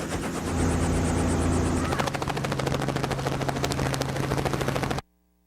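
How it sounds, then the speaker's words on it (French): Helicopter flying near a Quebec outfitter's lake, a loud continuous rotor roar with rapid chopping blade pulses, steady throughout before cutting off abruptly near the end. "on s'en vient vous rejoindre en hélicoptère"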